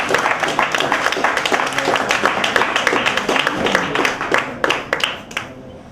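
A room full of people applauding poets at a spoken word poetry event in New York City, dense rapid clapping that holds steady and then thins out to a few last claps.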